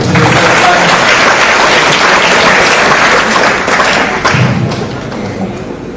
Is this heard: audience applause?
yes